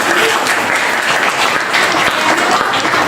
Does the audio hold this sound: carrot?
no